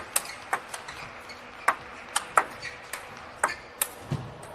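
Table tennis ball struck off the edge of a racket during a WTT Singapore Grand Smash match, giving sharp light ticks and pings that repeat irregularly over a quiet arena background.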